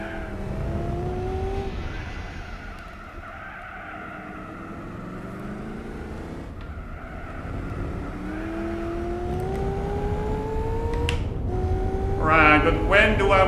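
A race car engine in Gran Turismo 4 drones steadily at high revs, pitch rising through gear changes with brief drops at shifts, fairly close and continuous throughout.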